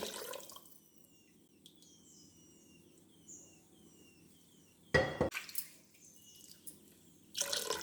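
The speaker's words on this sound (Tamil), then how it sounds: "இனி ஒரு டம்ளர் ஊற்றலாங்க." Water pours and splashes into a metal pressure cooker in two short bursts, with light drips in a quiet room between them, while cooking mutton biryani.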